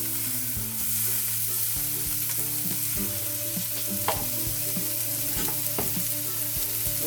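Ground beef fries in a pot with a steady close sizzle and crackle, broken by repeated clinks and scrapes of a utensil stirring, with tonal kitchen hum underneath and no talking.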